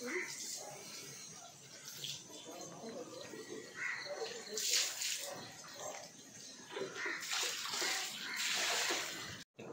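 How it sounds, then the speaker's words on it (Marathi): Water washing a terrace floor and grill, a steady splashing, running-water wash heard fairly faint throughout, with a person talking over it. "हे बघा पूर्ण लादी वगैरे सगळं धुवून काढलं."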